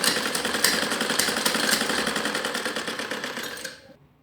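A sewing machine runs continuously and loudly, stitching a Ludhiana salwar seam with a fast rhythmic whir before slowing and stopping at the end.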